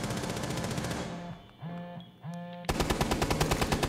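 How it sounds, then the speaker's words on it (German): Rapid bursts of Rainbow Six: Siege video game gunfire crackle loudly, broken by a short pause with electronic tones, then resume as a fast rattling volley. "Das waren noch Schüsse von unseren Leuten da"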